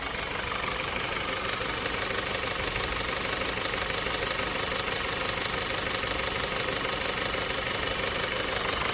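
A worn, oil-burning Audi engine idles with a steady, loud, close rumble and a continuous knocking rattle running through it, unbroken for the whole stretch with no voices.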